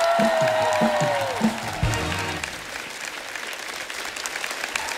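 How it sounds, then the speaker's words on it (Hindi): Studio audience of a comedy talk show applauding the guests, a steady dense wash of clapping lasting throughout, louder at first with a musical sting under it, then settling slightly. "एक बार खुल के तालियां हो जाए हमारे मेहमानों के लिए"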